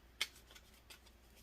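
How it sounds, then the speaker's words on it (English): Tarot cards being shuffled during a reading, a couple of quick, faint papery riffles and snaps in a quiet room. "One more shuffle here, please"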